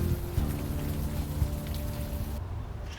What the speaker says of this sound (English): The rain is washing away most of the smell.